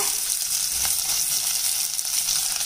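Sliced big onions hiss and sizzle in hot groundnut oil with fried fennel seeds in a cooker, a steady close crackling fry with one brief stir clink and no voices.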